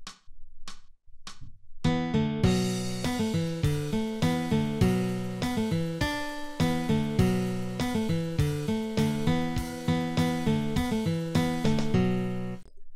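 Hard rock guitar riff of distorted power chords played in a driving, evenly chugging rhythm, loud and sustained for several bars after a few opening strums.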